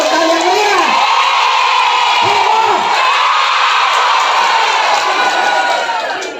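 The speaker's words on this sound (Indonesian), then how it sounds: "Tepuk tangan yang meriah." A roomful of students cheering and shouting loudly with clapping underneath, excited voices rising and falling in long whoops, the noise staying loud and constant before easing slightly at the end.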